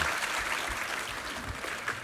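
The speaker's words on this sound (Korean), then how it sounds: "우리 하나님께 감사와 영광의 박수 올려드리겠습니다." A church congregation applauds after a Korean sermon reading, giving a steady, even wash of clapping throughout with no pauses.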